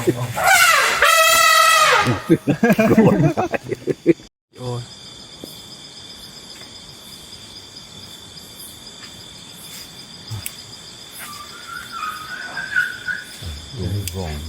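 A wild elephant trumps a loud, harsh, wavering blast up close, then the air falls quiet to a steady drone of crickets and insects, with faint distant sounds and a brief higher call near the end.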